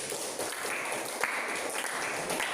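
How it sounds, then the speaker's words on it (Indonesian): A classroom group of students claps after a presentation, a light, fairly quiet patter of scattered hand claps with a few sharper individual claps standing out. "Tepuk tangan boleh."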